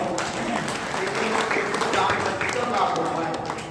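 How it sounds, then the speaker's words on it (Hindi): An audience at a devotional music programme claps loudly in a sustained burst, dense and continuous, with voices mixed in under the applause. "इसलिए इस परेशानी के लिए जोरदार ताली बजाओ"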